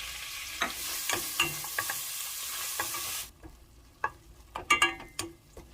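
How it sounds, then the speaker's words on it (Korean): Pork sizzles and crackles in oil in a hot pot, with utensil clinks and scraping taps as it is stirred; the sizzle drops partway through. "냄비에 식용유 2큰술 정도를 넣어주시고요. 돼지고기 먼저 넣고 볶아주세요."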